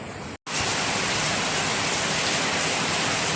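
Heavy typhoon rain pours down behind a house in Baguio City, Philippines, in a dense, constant hiss, broken only by a brief cut near the start.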